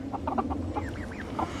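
Backyard chickens, including newer birds, give a short burst of soft clucks and a few rising, questioning calls, close by and moderately loud with no talking.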